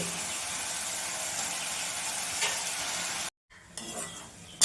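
Ground masala paste hitting a hot pan for a Bengali dish of whole potatoes, pointed gourd and fish, giving a steady close sizzle and stirring that breaks off abruptly, then resumes more faintly with scraping.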